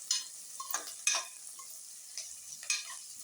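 Curry leaves fry in a pan with onion, crisp sizzling bursts and scraping stirs coming in uneven pulses, fairly close and alone.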